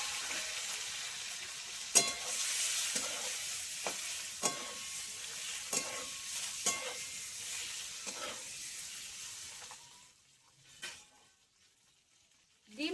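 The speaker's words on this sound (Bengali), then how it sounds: "দিয়ে আমি ডিমটা ভেজে নেব। এবার আমি ডিমগুলো দিয়ে দেবো।" Eggs fry in oil seasoned with turmeric and salt, making a bright, crackling sizzle that holds steady for about ten seconds with a few spatula taps, then drops off to near quiet.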